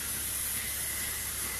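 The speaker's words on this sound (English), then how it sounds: "I'm gonna do some of the flex holder spray just in my" Flex hold hairspray hisses from an aerosol can onto hair in one continuous close, loud spray lasting under two seconds.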